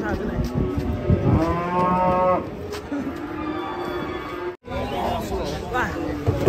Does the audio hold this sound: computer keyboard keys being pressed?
no